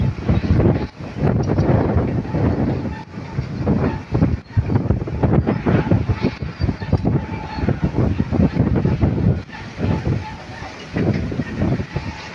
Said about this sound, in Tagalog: Lakas ng hangin talaga mga kababayan, pinapadpad yung kamay natin sa hangin, lakas talagang bagyong igay na to.